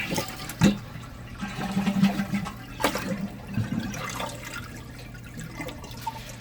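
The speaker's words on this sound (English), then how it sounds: "Then what we're going to do, we're going to flush it." A household toilet flushes during a wax seal replacement, water rushing and gurgling in uneven surges at close range, with no talking.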